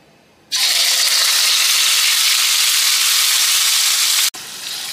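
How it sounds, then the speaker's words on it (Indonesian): Finely blended spices hit hot oil and sauté for grilled black pomfret, a loud sudden sizzle that roars steadily up close for several seconds, then breaks off sharply and returns more quietly. "Kita tumis macam kita nak buat sambal lah."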